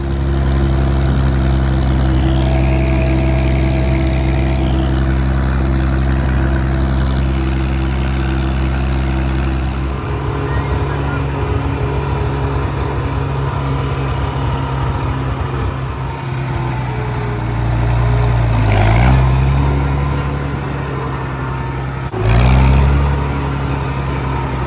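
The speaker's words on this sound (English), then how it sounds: "We're gonna get this tractor up here right now." A tractor engine drones loudly and steadily as it climbs onto a hilly hay field, a deep continuous rumble with a shift in pitch midway and a couple of brief surges in load near the end.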